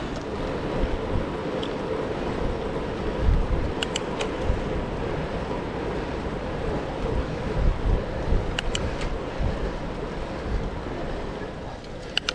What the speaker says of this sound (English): We're going to get hit by the wind now